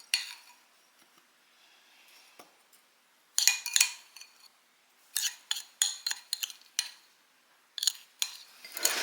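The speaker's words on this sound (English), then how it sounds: "you want to split this graham cracker mix up into the 2 different ramekins" Graham cracker mix is spooned into two ramekins, heard as bursts of metal spoon clinks and scrapes against ceramic, close and sharp, separated by quiet pauses, with no voices.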